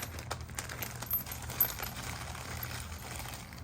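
Metal washers for trailer hitch bolts on an Acura MDX are handled and jostled, giving light clinking and a couple of clear metallic taps against a faint low hum, close and quiet with no talking.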